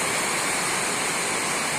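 Water gushes hard from a hose or pipe while a livestock pen is cleaned, a steady, loud, broadband rush with no pauses and no voices.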